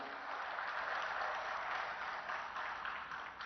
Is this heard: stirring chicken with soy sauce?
no